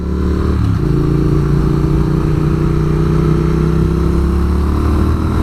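A Triumph Speed Twin motorcycle engine runs loud and close, holding a steady, throbbing idle with a slight rise in pitch near the start and no voices over it.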